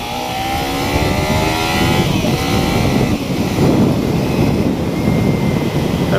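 Kawasaki Ninja 300 motorcycle engine drones while riding, its pitch rising as it accelerates, mixed with heavy wind buffeting on the microphone, close and steady throughout with no talking.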